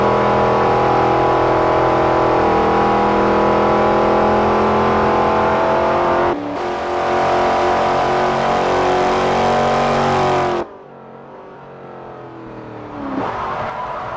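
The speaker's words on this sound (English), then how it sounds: "today we are doing a test lap with the 2012 Chevrolet Camaro ZL1 from Forza Motorsport 4" A 2012 Chevrolet Camaro ZL1 in Forza Motorsport 4 laps Twin Ring Motegi Speedway, its engine sustaining a loud, steady high-rev drone with a brief dip mid-run, then dropping off abruptly before revving back up.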